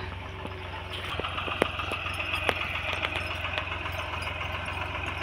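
A tractor engine runs at a steady idle in a farm field while sacks of sorghum are loaded, a continuous low rumble with occasional clanks and knocks, heard from close by.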